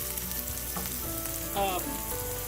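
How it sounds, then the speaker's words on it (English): Red potato pieces frying uncovered over a low flame in a pan, a steady close sizzle and crackle with a brief brighter spatter partway through, no voices. "My potatoes are getting fried"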